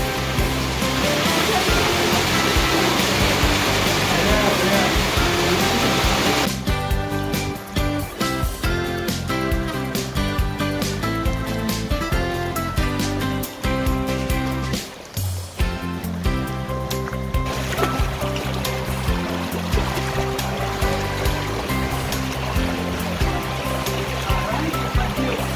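A rushing mountain stream pours steadily and loudly along a hiking trail, a constant broadband roar with brief clattering knocks and faint voices in the middle stretch.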